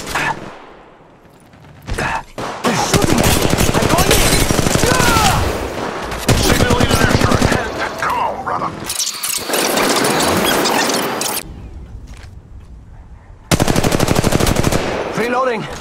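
Gunfire in the mobile battle royale game Apex Legends Mobile. Loud bursts of automatic fire run for several seconds at a time, separated by short gaps, with squealing effects and brief game voice callouts.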